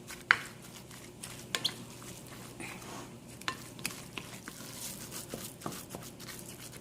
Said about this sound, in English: now let's give this one a good mix